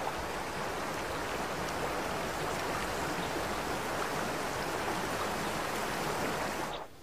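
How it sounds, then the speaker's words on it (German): A small mountain brook at the source of the Lena river, above the treeline at about 1500 metres, babbles in a steady, even wash of water for several seconds with no voices. "Oberhalb der Baumgrenze, bei etwa 1500 Meter über Meereshöhe, ist die Lena nur ein mickriges Bächlein."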